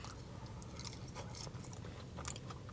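Someone chews a mouthful of battered fish and chips dipped in curry sauce, with soft wet crunching and mastication close up, steady over a few seconds, with no talking.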